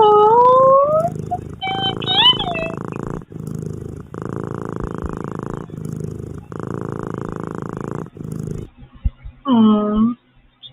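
A cat purrs in the video game Stray, a steady close rumble in long even stretches, with drawn-out meows at the start and a short meow near the end.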